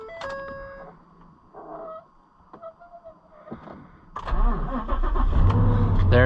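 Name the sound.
pickup truck engine starting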